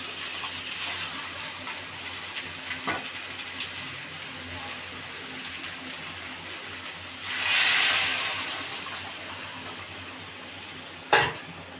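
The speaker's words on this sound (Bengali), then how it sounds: "এখন এর মধ্যে দিয়ে দিচ্ছি আমি জল।" Hot water poured into a pan of spicy chicken curry whose oil has separated sets off a brief loud sizzling burst midway, over quiet background stirring and a few small clinks.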